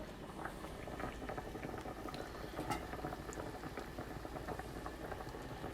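Taro root boiling in a pot of water: a steady, fairly quiet bubbling burble with faint popping, continuous and unbroken, with no voices.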